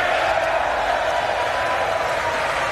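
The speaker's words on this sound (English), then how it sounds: "Even Nancy Pelosi's clapping." An audience at a televised political speech clapping steadily, a loud, continuous wash of applause from a large crowd with a faint murmur beneath it.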